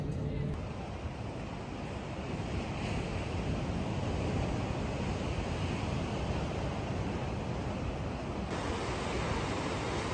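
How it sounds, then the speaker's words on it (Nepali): Sea waves along the Bondi to Coogee coastal walk in Sydney, a steady full roar of surf with wind buffeting the microphone, continuous and fairly loud throughout. "यो समुद्रको छालहरूको आवाजसँगै मजा आउँछ"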